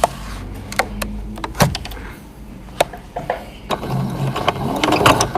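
A sewing machine back-tacks through a fabric face mask and its cord, giving bursts of close, clattering mechanical stitching with clicks and ratchet-like knocks between short pauses.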